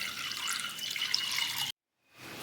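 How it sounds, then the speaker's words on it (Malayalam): Water pours steadily into an earthenware clay pot set on a lit stove while tamarind jam is being made, a continuous splashing flow that stops abruptly near the end, followed by quiet room noise. "കുറച്ച് വെള്ളം ഇതിലോട്ട് ഒഴിച്ചു കൊടുക്കുക"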